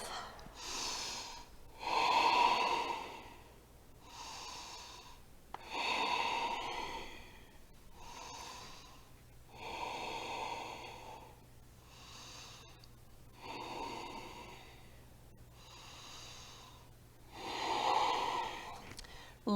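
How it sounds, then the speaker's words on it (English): Heavy, rhythmic breathing during a vinyasa yoga flow: about seven slow, deep inhale-exhale cycles, close and clearly audible with no talking. "Breathing here for 5 rounds of breath."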